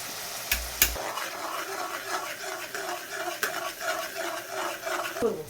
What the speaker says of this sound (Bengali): আদা, জিরে, শুকনো লঙ্কা, ধনে সমস্ত কিছুর পেস্ট একসাথে গুলে রেখেছিলাম, ওটা দিয়ে দিচ্ছি